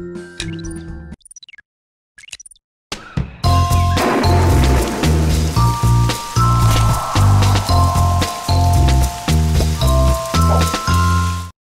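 Rain falls outside a window in a PBS Kids science app game, heard as a steady dense patter with ticking drips beside musical game tones, starting after a few seconds of sparse sounds.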